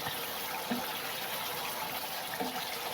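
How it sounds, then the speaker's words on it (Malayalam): Coconut milk boils in a pan as its water cooks off to make coconut oil, giving a continuous, soft bubbling hiss with small pops, heard alone at low volume. "വെള്ളം മുഴുവനും ഇങ്ങനെ തിളച്ച് വരുന്നത് വെള്ളമാണ്"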